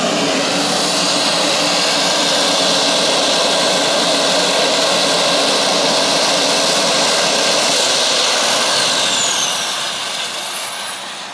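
Aircraft flying near Blackbush Airport, a loud, sustained jet-like roar that stays strong for most of the stretch and then begins to fade as it passes, no talking over it.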